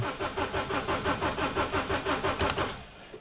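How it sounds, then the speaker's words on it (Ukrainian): JAC T6 pickup diesel engine with a fuel system fault cranking without starting: a rapid, even rhythmic starter churn of about a dozen cycles, close and alone, stopping abruptly. "Крутить, крутить і не запускається, бачите?"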